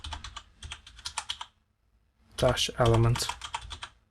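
Quick bursts of typing on a computer keyboard, close and clear, with rapid key clicks in short runs and a pause between them. Someone talks over the later bursts.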